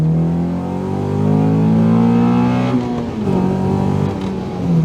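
Honda Accord Euro CL9 petrol four-cylinder revving hard with a rising, throaty engine note. It climbs, dips briefly, then picks up again, loud and close, with no talk over it.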